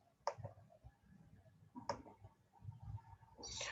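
Clicking of a computer mouse in a quiet room, two sharp isolated clicks about a second and a half apart, then soft rustling noise at the end.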